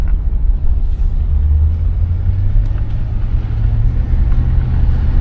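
A 1981 Chevrolet Caprice on the road with windows down, a loud steady low engine rumble and road drone filling the cabin, with no talk over it.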